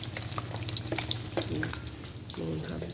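Egg tofu frying in hot, vigorously bubbling oil gives a steady close crackle and sizzle, with a few brief stirring or utensil sounds on top.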